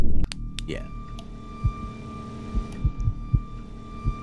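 In the horror game From The Darkness, a low heartbeat thumps intermittently in soft, muffled pulses beneath a steady dark hum, following a sharp burst at the start.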